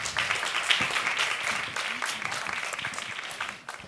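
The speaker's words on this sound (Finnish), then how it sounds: "Eli Tapio ja Siiri aplodien saattelemana tervetulleeksi" An audience at a panel discussion event bursts into sustained, dense applause to welcome the hosts, loud and even before tapering off near the end.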